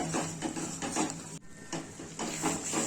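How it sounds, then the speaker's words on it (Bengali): A spoon stirs crab curry with ginger garlic paste in a pan, scraping in steady repeated strokes at close range with no talk. "দেন এবার এটাকে ভালো করে নাড়াচাড়া করতে হবে।"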